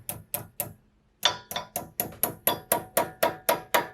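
Sharp metallic hammer strikes bending down cotter pin ends on a Toyota FJ Cruiser front suspension: three quick blows, a short pause, then a steady run of about ten evenly spaced hits, close and loud.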